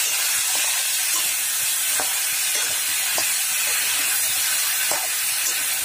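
Chela fish frying in a pan with the lid lifted gives a constant loud hiss and steamy sizzle, punctuated by soft regular ticks and pops, close and unbroken.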